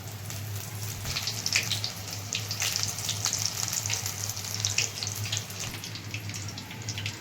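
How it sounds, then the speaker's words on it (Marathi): Batter-dipped spinach bhaji frying in hot oil, a steady close bubbling sizzle with crackling bursts that rise and fall, alone without voices. "हे पिठामध्ये बुडून घ्यायचे आणि तेलात टाकायचे म्हणजे पालक भजे होते"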